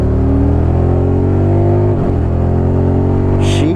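A wife's new motorcycle accelerates hard, its loud steady engine drone climbing in pitch with a brief dip near the middle as it shifts, continuous and close throughout.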